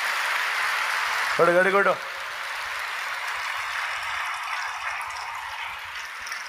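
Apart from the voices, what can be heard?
audience clapping loudly in church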